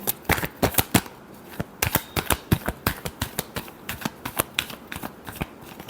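Tarot cards being shuffled by hand in a quick run of crisp, papery riffling slaps, close and fairly loud, steady throughout with no talking.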